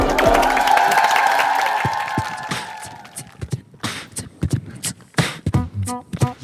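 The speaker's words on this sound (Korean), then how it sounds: "박수로 즐겨보도록 하겠습니다" A TV studio audience cheers and applauds loudly, then the noise dies away into scattered, sharp claps and brief knocks.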